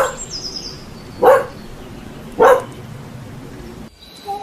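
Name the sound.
dog barking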